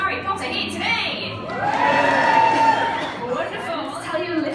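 A tour group cheers and shouts at the Harry Potter Studio Tour, a swelling burst of mixed voices and children's yells that peaks mid-way, with a guide's voice around it.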